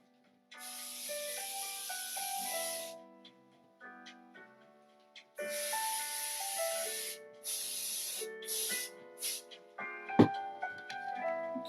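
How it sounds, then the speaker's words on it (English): Aerosol spray hissing onto a slim line napkin card in two long bursts with shorter puffs between, loud and close, with background music underneath. "So let me go ahead and spray the card."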